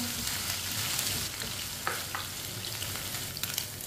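Chicken pieces frying in a pan while being stirred with a spoon, a steady close sizzle with occasional light scrapes and clinks of the spoon.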